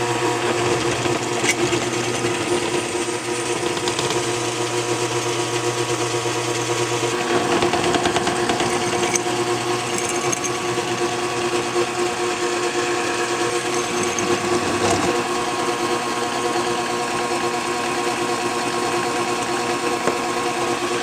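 An electric drill bores holes in steel for a blacksmith guillotine, a loud and continuous whir with a steady motor hum and shifting grinding underneath that runs through the whole stretch with no speech.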